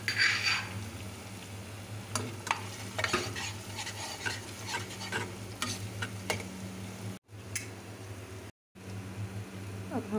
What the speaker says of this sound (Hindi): अब हम डालेंगे अदरक लहसुन का पेस्ट